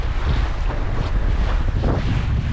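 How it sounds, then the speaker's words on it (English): Strong gusty wind roars across the microphone while sailing a dinghy in force 6 conditions, with splashing water and continuous loud buffeting. "The gusts are a bit gusty."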